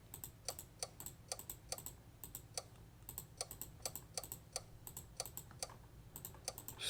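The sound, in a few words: control-clicking upgrade buttons on a computer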